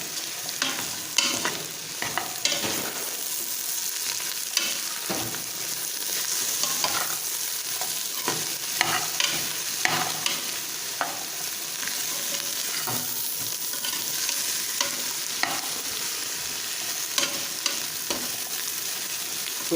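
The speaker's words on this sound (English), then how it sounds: "And next add the carrots. Now just saute for 2 to 3 minutes." Carrots sauté in a pan for vegetable biryani, with a low sizzle beneath frequent sharp scrapes and taps of a spatula stirring them, fairly close and steady.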